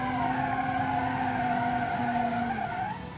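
A 300 HP all-wheel-drive hatchback drifts in the BeamNG driving game, its tires squealing in a continuous loud skid over the engine's steady tone, easing off at the very end.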